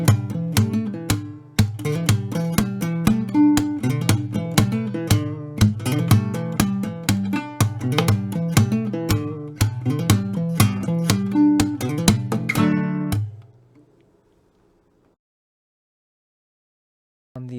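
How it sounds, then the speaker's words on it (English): Syncopated guitar riff from a song, played with rhythmic plucked notes and a driving percussive pulse, loud and close, ending abruptly into near silence before a brief return. "There's this little break where I play this guitar riff,"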